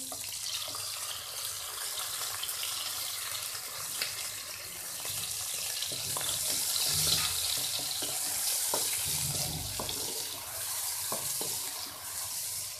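Steady running water, about 1.5 litres, pours and splashes continuously into a cooking pot close by, with a broad hissing wash and no voices.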